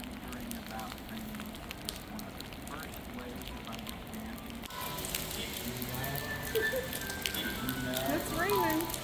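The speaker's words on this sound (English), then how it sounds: "It's raining." Rain patters steadily on hard surfaces in Pittsburgh, a soft crackling hiss that grows a little louder partway through, with faint distant sounds behind it.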